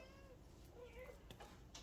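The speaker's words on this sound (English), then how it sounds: "got my cat in the background all excited about these hamburgers" An excited house cat meows in the background of a kitchen where brisket burgers are being prepared for a Blackstone 22-inch griddle, a few faint rising meows over a low steady room hum.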